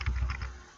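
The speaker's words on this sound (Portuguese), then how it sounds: "apertei sem querer aqui o teclado numérico" Computer keyboard keys are pressed in a short quick burst of soft, close clicks, alone and fairly faint.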